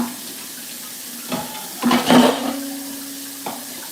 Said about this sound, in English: I'm going to let that water run because it's starting to dry out a little bit